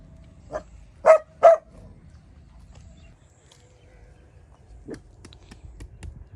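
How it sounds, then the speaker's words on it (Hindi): A village dog barks a few sharp times nearby in a rural mud-house setting on wet ground, with two close barks in quick succession followed by a fainter one amid quiet background. "डॉगी भी बोल रहा है"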